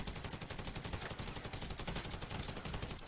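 Automatic gunfire from GTA 5 rattles in a dense, unbroken stream of rapid shots for the whole stretch. The shooting is loud and continuous, with no talking.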